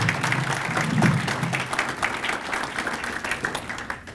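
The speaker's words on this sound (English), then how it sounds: "Let's give them a round of applause." A crowd at an outdoor Stars and Stripes community event in Farmington Hills claps together, a steady patter of applause that slowly thins toward the end, with no talk over it.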